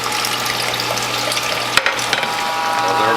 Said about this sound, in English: the juice that we have in the folding tray, I'm going to very, very carefully pour that in